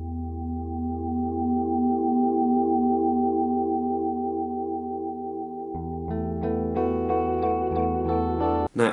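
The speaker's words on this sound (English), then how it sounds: "you can also do those really cool self-oscillating repeats and stuff" NUX Tape Echo guitar pedal: sustained guitar tones feed back into thick, self-oscillating echo repeats that drone and build, then shift into a denser, rising wash of stacked repeats before cutting off abruptly near the end.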